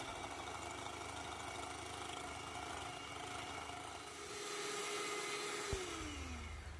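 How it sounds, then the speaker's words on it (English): Electric mixer whipping egg whites to stiff peaks for a tres leches cake, a quiet, steady motor whir that grows slightly louder near the end, then a brief clunk as the tone dips and winds down. "With my electric mixer, I'm going to beat these until stiff peaks."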